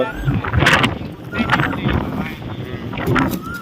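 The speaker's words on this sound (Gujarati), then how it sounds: "પવન આજે ટાઈમ ફૂલ બહુ આવે છે" Strong wind buffets and roars across the microphone in gusts, with people talking underneath.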